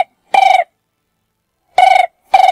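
Phone ringing during a call placed to someone who left it behind: three loud, warbling electronic ring bursts, each about a quarter second long, separated by silences, with no voices.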